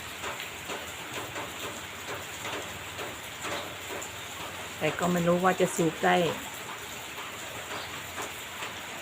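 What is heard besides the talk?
rain falling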